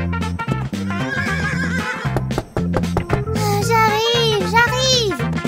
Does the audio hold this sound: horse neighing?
yes